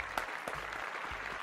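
Applause sound effect: a short, faint burst of crowd clapping, dense and steady for about a second and a half.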